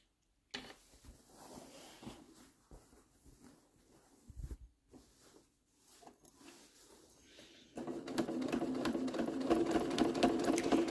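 Sewing machine stitching a scrap fabric tote bag, likely in a narrow zigzag, starting with scattered handling clicks and faint stitching, then running steadily and loudly through the final three seconds.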